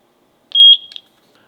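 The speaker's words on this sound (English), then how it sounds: "it was making a high-pitched noise. And then the camera listens for that noise." A Eufy Cam S3 Pro security camera emits a single brief high-pitched sync tone, a clear electronic beep of under half a second, alone against silence.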